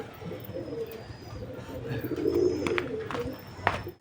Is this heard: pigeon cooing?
yes